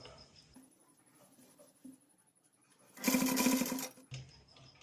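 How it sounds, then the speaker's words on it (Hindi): A sewing machine stitches the button placket of a girl's Pathani suit, a quiet hum and faint clicks giving way to a loud, fast whirring burst of about one second, heard close with no talk. "कॉर्नर से स्टिच करना है।"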